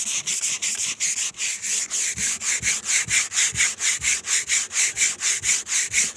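Gator 220 grit sandpaper rubs across cured paint in quick, even back-and-forth strokes, a loud, close, rhythmic rasping of about four strokes per second that continues unbroken.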